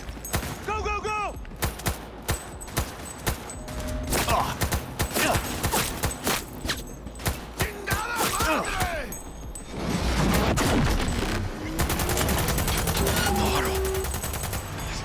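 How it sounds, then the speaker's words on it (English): Dense, rapid light-machine-gun bursts in the shooter Cyberpunk 2077, close and loud, firing in long strings with short gaps, mixed with impacts, mechanical clatter and game effects, while a voice speaks intermittently over the action. "LMGs work very great for that giant thing"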